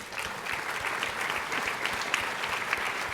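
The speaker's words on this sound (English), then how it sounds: "let's give you guys a round of applause, seriously" An audience at a real estate agents' talk claps in a steady round of applause, a dense even patter of many hands that holds at moderate loudness throughout.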